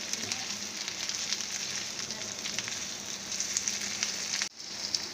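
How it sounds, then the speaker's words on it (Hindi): Ginger and garlic fry in oil in a pan with a steady, close hiss and crackle that runs continuously, broken only by a brief dropout near the end before the sizzle resumes. "ये देखिए अदरक और लहसुन भी फ्राई हो गया"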